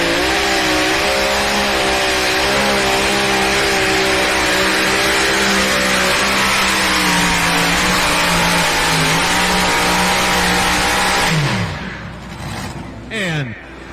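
Pulling tractor at a truck and tractor pull in Bowling Green, Ohio, engine screaming loud and sustained with wavering harmonic pitch, then dropping off sharply near the end; an announcer talks over it.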